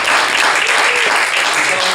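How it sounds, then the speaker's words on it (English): Short burst of loud audience applause at a writers' conversation event, steady dense clapping from a crowd throughout, with a faint voice briefly audible underneath. "Give yourselves a round of applause"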